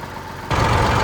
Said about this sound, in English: I've been running the tractor for a little bit